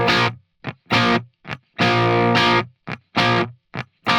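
Electric-toned guitar strummed in a short rhythmic pattern, chord strokes cut off by string mutes into choppy bursts with silent gaps, one longer ringing strum in the middle, close and fairly loud.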